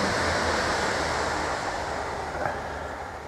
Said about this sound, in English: I just let this train go past.